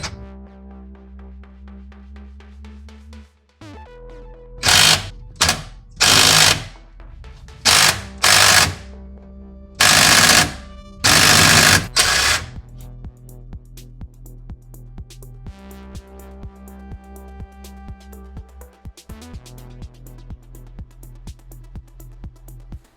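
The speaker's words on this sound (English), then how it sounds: "I had to bust out the electric impact." An electric impact wrench fires in several loud, close, rattling hammering bursts while loosening the oil drain plug on a 2012–2019 Prius C during an oil change, between quieter stretches of a steady background hum.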